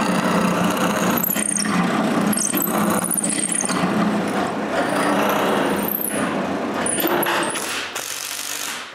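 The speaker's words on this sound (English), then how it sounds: "I drill the four mounting holes" A drill bores four mounting holes in a wooden block for a homemade bandsaw, giving repeated bursts of close, loud grinding and whirring with brief pauses and mechanical rattles between holes.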